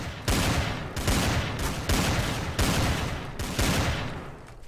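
Rapid bursts of gunfire from the video game Garry's Mod, Trouble in Terrorist Town mode, with about six loud, evenly spaced volleys following one another with no break.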